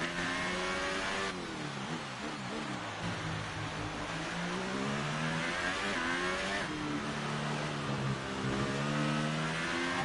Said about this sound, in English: Let's get back up to racing speed.